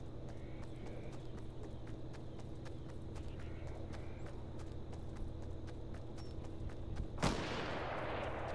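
A single sharp gunshot cracks out late in a Fortnite match, faint and somewhat distant, following a stretch of quiet, steady rhythmic ticking footsteps.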